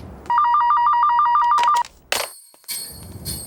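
A telephone rings in a steady electronic trill of repeated tones for over a second, then breaks off, followed by brief clicks and faint room sounds, with no talk.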